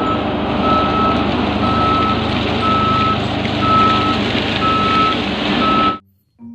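A toy cement mixer truck's reversing beeper sounds steady, evenly spaced beeps over a constant loud motor whir, all cutting off abruptly near the end.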